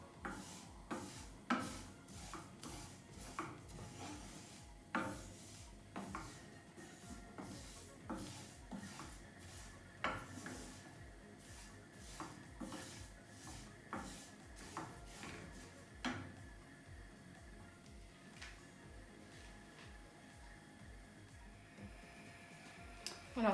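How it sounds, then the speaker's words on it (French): Sesame seeds toast in a frying pan while being stirred, giving a steady run of light scraping clicks and taps from the spoon against the pan, fairly quiet and close with no talking. "Voilà, c'est en train de griller, ça commence à bien griller."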